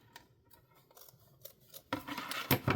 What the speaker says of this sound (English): But I got my scissors today.